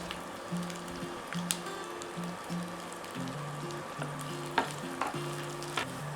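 Chopped onions sizzle and fry in oil in a pan while making an egg roast, with a steady crackle, occasional sharp pops and stirring scrapes, close and moderately quiet, with a soft tonal hum underneath.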